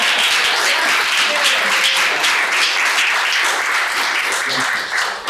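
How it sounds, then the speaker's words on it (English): Audience at a library panel discussion on women in jazz applauds a panelist, with steady, dense clapping filling the room for about five seconds, loud and continuous, with some voices mixed in underneath. "I'm gonna give him an applause."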